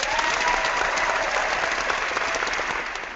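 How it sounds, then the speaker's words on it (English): A person clapping hands quickly and continuously, a dense, even patter that fades slightly toward the end, recorded fairly close with no talking. "And I am clapping."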